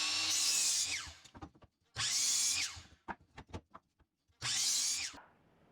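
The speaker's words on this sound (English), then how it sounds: "Let's cut 6 pieces out of a 2x4 about 18 inches long." Three bursts of a power saw slicing through a warped 2x4 scrap length, each cut about a second long. Between the cuts come sharp knocks and clatter as the pieces are handled. There is no talking.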